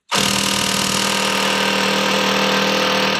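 A Bauer impact driver runs in one steady, loud, continuous burst of about three seconds, close up, with a buzzing whine and no voices.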